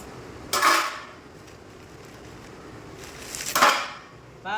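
A knife cuts open a ripe red watermelon with two distinct crunchy, splitting strokes a few seconds apart, close and fairly loud against quiet room noise.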